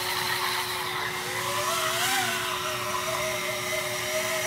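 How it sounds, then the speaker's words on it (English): Motor of a spinning drone spooling down as the throttle is lowered to hold altitude: a loud, steady electric whine with a high tone that wavers and drifts slightly, over broad rushing noise. "You can even hear the motor start to spool down as the altitude controller lowers the throttle to maintain altitude."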